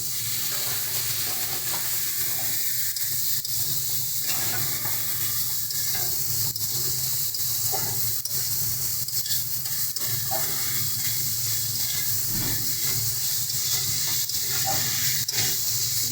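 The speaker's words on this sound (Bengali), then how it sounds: "একটু সামান্য পরিমাণে আমরা জল দিয়ে দিচ্ছি।" Beans sizzle and fry steadily in a hot pan after a splash of water is added, a continuous close hiss with scattered stirring scrapes and pops across the whole stretch.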